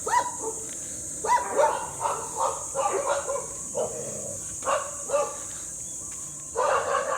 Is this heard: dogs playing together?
yes